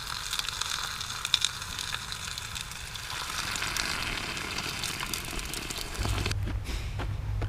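Bacon sandwiches frying on a camp stove outdoors, a steady sizzle and crackle with a low burner roar joining near the end.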